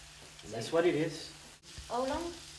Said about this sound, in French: Faites rissoler le poulpe et les pommes de terre pendant quelques minutes.